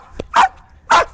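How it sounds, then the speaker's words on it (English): A female dog barking during guard dog training: a short yip, then two sharp barks about half a second apart, close and loud. "Let her bark, stay in spot, let her bark."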